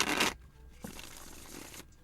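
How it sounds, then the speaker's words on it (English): A tarot card deck is shuffled in quick, quiet bursts, a short papery riffle at the start followed by a longer soft rustle of cards sliding together close by. "Let's do a better shuffle."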